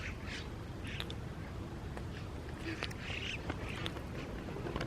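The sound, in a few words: flock of migratory birds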